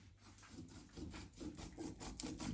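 A knife saws back and forth through salmon, fish head included, being prepared for a Kerala-style fish curry, giving steady repeated rubbing, rasping strokes close up with no talking.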